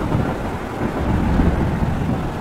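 Steady rain pours down on a cricket ground in the video game World Cricket Championship 2, with a deep rumble of thunder rolling underneath, dense and continuous.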